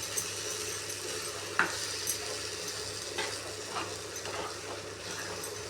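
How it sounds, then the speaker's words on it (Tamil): Mango pachadi stirred in a pan with a spoon, a soft steady sizzle with a few scraping knocks against the metal at an irregular pace, close and fairly quiet. "நல்லா அடிப்பிடிக்காமல் கிளறணும் தானேங்க சார்?"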